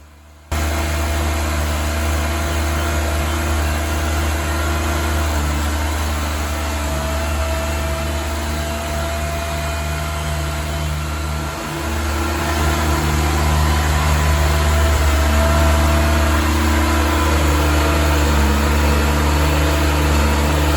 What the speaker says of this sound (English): So right here, I'm just letting the engine run for a little bit.